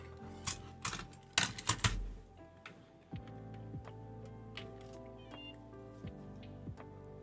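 Keys clack on a Moonlander split keyboard fitted with a base plate for tenting, a quick cluster of sharp clicks early on, then sparse lighter taps over a soft tonal background.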